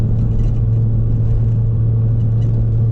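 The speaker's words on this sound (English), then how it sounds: "driving up the mountain" A car climbing a mountain road gives a steady, loud, low engine and road rumble that goes on without a break, with no voices.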